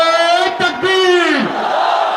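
A crowd at an outdoor religious gathering roaring a loud, sustained collective chant in reply to a takbir call, many voices merged into one long swelling shout that trails off.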